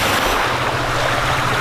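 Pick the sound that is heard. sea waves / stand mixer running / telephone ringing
sea waves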